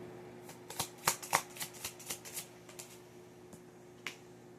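Tarot cards being shuffled and handled, a burst of quick crisp flicks and slaps followed by a few isolated taps as cards are set down, close and fairly quiet with no talk.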